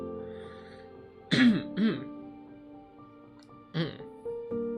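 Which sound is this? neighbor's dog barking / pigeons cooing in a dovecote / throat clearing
throat clearing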